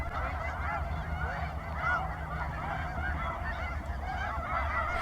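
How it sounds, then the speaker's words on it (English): A dense flock of snow geese honking continuously, many overlapping calls at moderate distance, on the Fraser and Skagit River deltas; no speech. "their non-stop honking"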